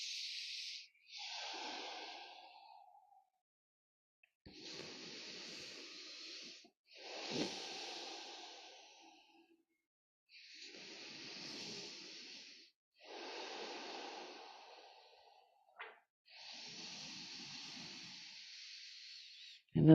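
Slow, steady breathing during a yin yoga pose: soft airy inhales and exhales repeating in long even cycles with short pauses between, close and quiet with nothing else around.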